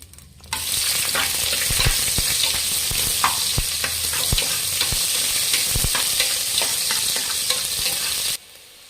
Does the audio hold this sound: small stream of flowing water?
no